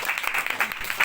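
Students in a classroom clapping for a classmate, a short burst of close, uneven hand claps from a small group lasting about a second.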